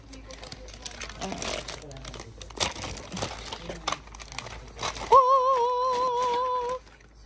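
Packing tape is pulled off the packaging of a large Sylvanian Families toy cabin house with bursts of crinkling and rustling, and a voice is heard between them. A long, thin, wavering squeal follows at the close.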